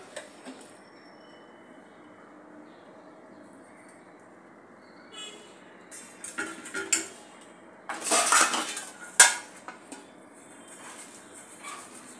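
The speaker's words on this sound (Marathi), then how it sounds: "ताटामध्ये काढायला याला ताटाला तूप लावून घेऊया" Ghee spread across a metal plate after the gas is turned off, with quiet scraping at first, then sharp metallic clinks and clatter of a utensil against the plate building to a loud cluster near the end, with no talk.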